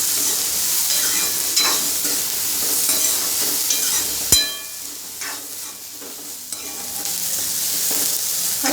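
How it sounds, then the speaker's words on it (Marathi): Chopped onion sautés over high heat in a pan, giving a steady bright sizzle and hiss. A spatula scrapes and stirs through it now and then, with one sharp clank near the middle. "कांदा परतताना गॅस फास्टच ठेवा"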